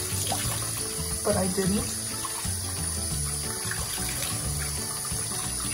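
Water runs steadily from a tap into a sink during rinsing. A continuous splashing hiss comes from close by, and someone speaks briefly over it.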